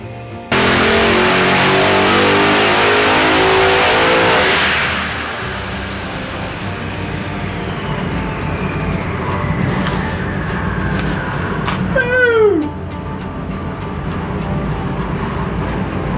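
A Nelson Racing Engines twin-turbo V8 in a Shelby Mustang prototype roars loudly at high revs after a cam change, holds full throttle for several seconds, then falls back to a rough idle with a brief turbo whistle.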